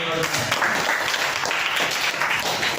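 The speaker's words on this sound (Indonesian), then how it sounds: "Oke, tepuk tangan dong." A classroom of students claps together at the close of a lesson, a brief, dense burst of hands close by and fairly loud, with some voices mixed in.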